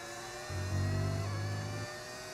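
An F1 racing car engine in the F1 25 video game revs up briefly in the rain, a steady mid-pitched whine rising over a constant background hum before settling back.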